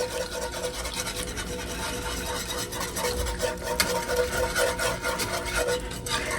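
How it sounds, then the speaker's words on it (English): A larger whisk scrapes and stirs through a chunky breakfast mixture in a bowl, making a continuous close rasping, swishing sound with uneven rhythmic strokes and no talking. "I'm going to try to use a bigger whisk to break it up."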